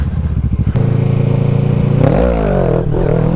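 A motorcycle engine revs loud and close during a wheelie attempt, holding a steady buzzing drone before the throttle is chopped and the pitch dips and wavers, with a brief clatter early on.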